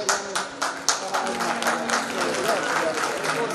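An audience claps at a journalist association's calendar release and honours ceremony, a steady spread of hand claps with some louder bursts, while a voice talks over it.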